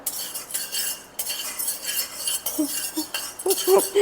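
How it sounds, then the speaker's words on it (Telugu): A metal spoon clinks and scrapes in a pan as a garlic spice mix is stirred on the stove, with irregular close-up taps and scrapes throughout. "కొంచెం స్టవ్ దగ్గరే ఉండి కలుపుతూ ఉంటే ఈక్వల్గా వేగుతాయి ఇవి"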